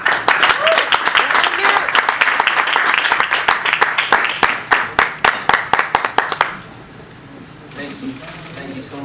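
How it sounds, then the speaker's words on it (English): A crowd at a post-fight press conference for boxer Abner Mares, from Guadalajara, Jalisco, Mexico, breaks into loud, dense applause with sharp individual claps that thin out and stop, leaving quiet room tone. "Please give a round of applause from Guadalajara, Jalisco, Mexico, Abner Mares"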